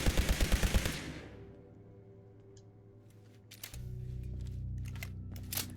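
Automatic laser rifle firing in Fallout 76, a rapid burst of about seven loud, evenly spaced shots at the start, then a low ambient game hum with scattered faint clicks and ticks.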